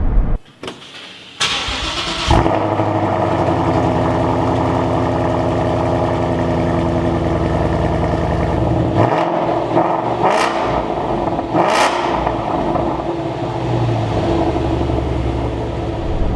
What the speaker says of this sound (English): Family members of mine have a 2015 Mustang GT that's equipped with the Corsa Sport exhaust system.